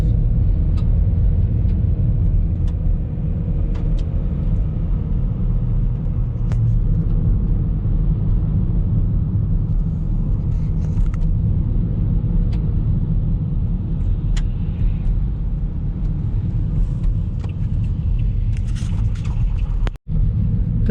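Interior of a car driving on a snowy winter street in Mirny, Yakutia, a steady loud low engine and road rumble with faint ticks and one sudden cut near the end.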